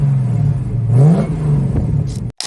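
A 1967 Chevrolet Camaro SS with a 396 cubic inch big-block V8 rumbles loud and close, then blips the throttle once with a brief rise in engine pitch before it settles back and cuts off abruptly.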